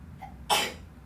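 A single short sneeze bursts out indoors during an algebra lesson, sudden and fairly close, then fades into a quiet room.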